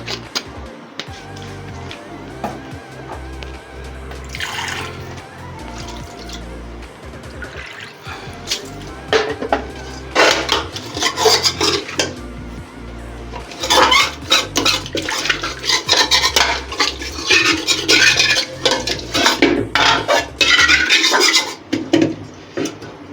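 Water splashed into a kadai holding leftover stuck masala is stirred and scraped with a utensil against the metal pan, then poured over biryani; busy clattering and sloshing grows louder and denser toward the end, with no voices.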